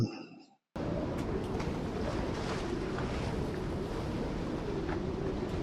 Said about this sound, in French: la preuve qu'il y a du vent